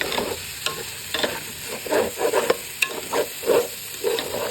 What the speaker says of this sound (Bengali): পোলাও চালটা আমি কষাই নিচ্ছি।